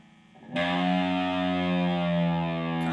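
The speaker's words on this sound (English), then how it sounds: "So the intro starts off with this droning kind of" A loud, sustained distorted electric guitar drone, the intro of a song, kicks in after a brief quiet lead-in, ringing steadily with rich harmonics for several seconds.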